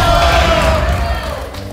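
A studio audience on a live Spanish-language TV game show shouts back together, a loud sustained crowd yell that fades slightly toward the end.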